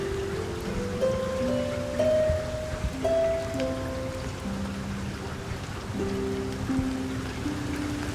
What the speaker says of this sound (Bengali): আজ বিকেল থেকেই মুষলধারে বৃষ্টি শুরু হয়েছে পলাশডাঙ্গায়।